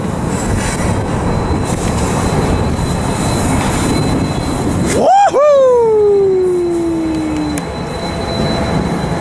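Eastbound freight train with trailing locomotives passing in Beaumont, California, a loud continuous rumble of rolling cars close by, with a sharp wheel squeal that rises then slowly fades, and a voice faintly under the noise.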